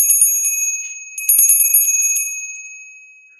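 Struck metal bell ringing bright and sustained, two strikes about a second apart, each leaving a long shimmering tone that slowly decays, heard alone without voices.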